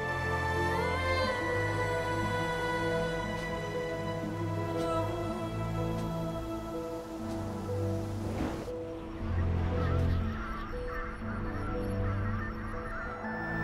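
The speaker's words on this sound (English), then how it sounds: "Let's harass the terror geese." Large terror geese in the video game Ori and the Will of the Wisps honk loudly and repeatedly over a dense, sustained musical and ambient backdrop that shifts partway through.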